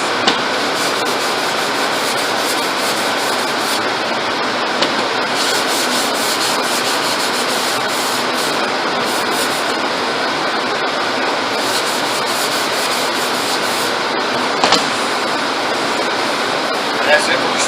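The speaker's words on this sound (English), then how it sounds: "And that's it for the sanding." Steady abrasive rubbing of sandpaper on a surface, continuous and close, with a faint knock or two near the end.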